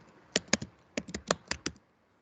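Keys on a computer keyboard are typed in short irregular bursts of crisp clicks, close and clear, ending in quiet with no talk.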